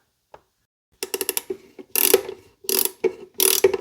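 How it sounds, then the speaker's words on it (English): Ratchet socket wrench turning a bolt that holds the brake cables on a Yamaha Majesty 400 scooter, close and loud: a burst of rapid clicks followed by several longer ratcheting strokes in an uneven rhythm. "Let's see, turn the socket on that."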